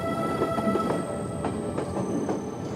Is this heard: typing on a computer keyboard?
no